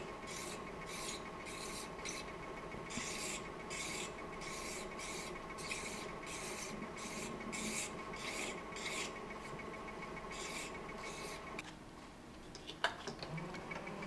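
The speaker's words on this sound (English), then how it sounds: "And again, filing it down," A metal part for a PM Research "Solar" Stirling engine is filed by hand, giving close, rhythmic rasping strokes in a steady back-and-forth pattern. The strokes stop near the end, followed by a brief clatter and no talking.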